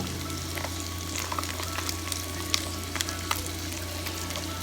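Diced onion frying in a pan for jambalaya, a steady close sizzle with scattered crackles and pops and a low hum beneath, no talking.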